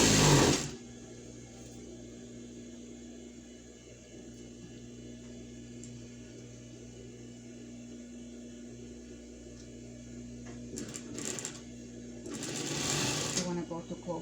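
A sewing machine stitches thick scrap fabric for a pet bed, a steady low mechanical hum running for most of the stretch, with louder handling noises at the start and near the end.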